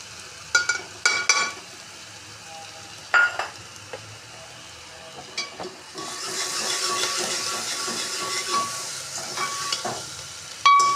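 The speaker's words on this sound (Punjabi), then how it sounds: "ਥੋੜਾ ਹੋਰ ਸੇਕ ਲਵਾਵਾਂਗੇ ਹਲ ਪਿਆਜ਼ਾਂ ਨੂੰ" A pan of onions and green chilies is stirred, with scattered sharp spatula taps at first, then a steady, moderately loud frying hiss building through the second half and no talking.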